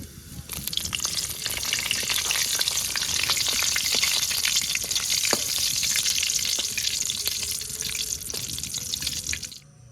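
Black cumin and dried chillies hit hot oil left from frying aubergine and crackle in a dense, continuous sizzle with sharp pops. It sounds close and steady for nearly ten seconds, then stops abruptly.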